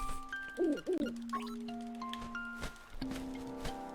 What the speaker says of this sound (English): And welcome back, Mr. Owl